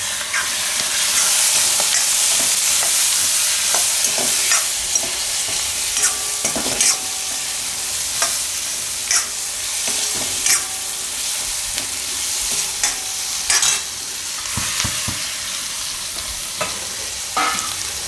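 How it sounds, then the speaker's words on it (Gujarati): Turmeric, coriander-cumin powder, red chilli and tomatoes sizzle in a frying pan for Gujarati Maggi rice, with a steady close fry and repeated sharp scraping stirs throughout, no voices. "હવે આને મિક્સ કરી અને ટમેટા નાખીએ."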